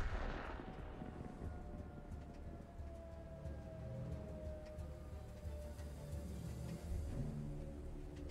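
Tank cannon fire and battle rumble in World of Tanks sound like a sharp blast at the start, then a low, continuous booming roll with scattered distant cracks and thuds, and no talking over it.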